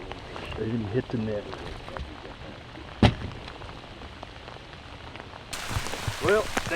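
Light rain pattering on a surface during a fishing tournament, with a few sharp thuds and brief voices in the background.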